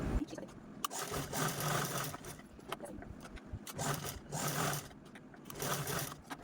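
A sewing machine runs in short repeated bursts of rapid mechanical stitching through blouse fabric, starting and stopping several times with brief pauses between runs, close and clear.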